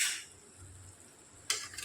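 Flour batter with tomato sauce and masala is stirred in a bowl, with two short bursts of utensil scraping and clinking at the start and end and a quiet pause between.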